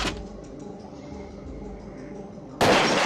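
A single loud rifle shot cracks out at a firing range in the Parasite Eve II video game, sharp and sudden after a quiet stretch of low game ambience.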